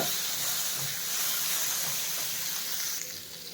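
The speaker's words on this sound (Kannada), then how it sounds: "ಇದು ದೊಡ್ಡ ಪತ್ರೆ ಎಲೆ ಬೇಗ ಫ್ರೈ ಆಗೋಗುತ್ತೆ ಒಂದು ಎರಡು ನಿಮಿಷ ಫ್ರೈ ಮಾಡಿದ್ರೆ ಸಾಕು" Borage leaves and lentils fry in a pan for chutney, giving off a loud, steady hiss and sizzle that thins out slightly toward the end.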